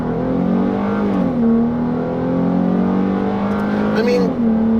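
Engine note of a 2017 Dodge Challenger GT with a V6 and AWD, heard from inside the cabin under hard acceleration: a steady, fairly loud drone that climbs in pitch, with a shift partway through. A voice talks over it.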